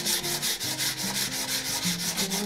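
Steel wool with abrasive paste rubs back and forth over the metal top plate of a 100-year-old wooden level, a steady rhythmic scrubbing of quick, even strokes, close and continuous.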